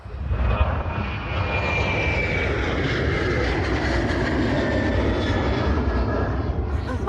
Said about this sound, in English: That looked like a TUI Boeing 737 going somewhere much nicer than I am.